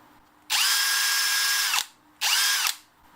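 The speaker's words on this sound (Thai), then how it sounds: "อันนี้มันอยู่ในโหมด โหมดเจาะธรรมดานะครับ" An IMAX Brushless 20V cordless drill in normal drill mode spins up in two bursts, a long whine of over a second and then a shorter one, each with a steady high motor pitch that drops away at release; close and loud.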